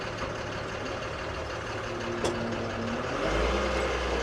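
A pickup truck backs up off-road during a many-point turn, its engine droning steadily at close range, with a low rumble swelling near the end and a brief sharp click partway through.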